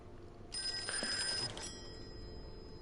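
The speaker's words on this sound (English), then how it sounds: "Somebody's ringing." Telephone ringing in the horror video game Call of Cthulhu: a single bright, rattling bell ring of about a second over a quiet ambient background.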